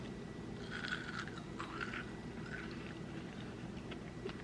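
Close, crisp crunches and chewing from someone biting into cotton candy flavored crystal candy, with a few sharp bites clustered early over a low steady background and no talk.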